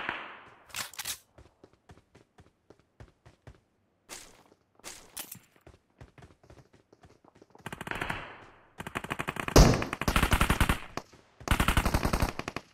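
Gunfire in the mobile shooter PUBG Mobile: sparse single shots and short bursts early on, then dense, loud automatic fire in sustained volleys near the end, with no talking.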